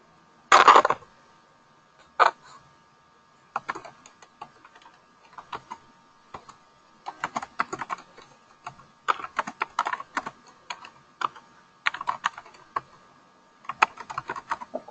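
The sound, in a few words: typing on a computer keyboard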